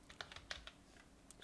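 Typing a terminal command on a computer keyboard, a quick run of faint, close, light key clicks in an irregular rhythm.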